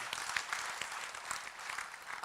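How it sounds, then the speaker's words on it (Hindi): An audience claps together at a corporate gathering in Indore, giving a brief, steady burst of dense applause from a crowd at moderate distance. "एक बार जोरदार तालियां बजा दो"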